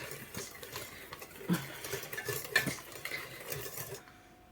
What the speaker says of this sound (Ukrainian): Бистренько все перемішуємо